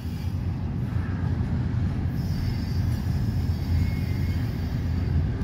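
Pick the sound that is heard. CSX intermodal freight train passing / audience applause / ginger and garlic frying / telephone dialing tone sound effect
CSX intermodal freight train passing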